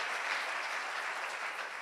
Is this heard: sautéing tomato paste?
no